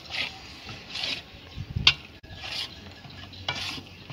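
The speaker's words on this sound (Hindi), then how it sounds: "इन्हें आप भुन लेंगे जी।" Flour roasting for atta panjiri, stirred in a pan with rhythmic rasping scrapes about once a second and a sharper knock midway, close and alone.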